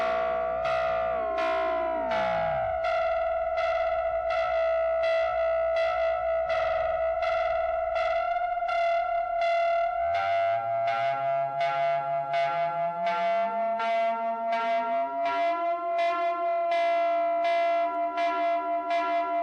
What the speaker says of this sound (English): There we go, a nice bell sound.